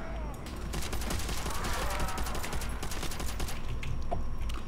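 Dense, rapid gunfire from Call of Duty: World at War zombies mode on a custom map, loud and nearly continuous bursts with no talking over it.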